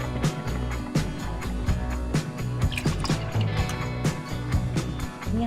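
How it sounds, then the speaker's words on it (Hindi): Water pours into a pan of masoor dal, a steady liquid splash and gurgle against the pan, loud and close, with clinks and bumps mixed in and no talk. "इसमें 2 कप पानी डालें।"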